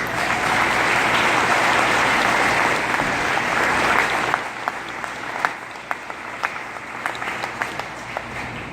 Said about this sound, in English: Please join me in a round of applause for our families, friends, and shipmates.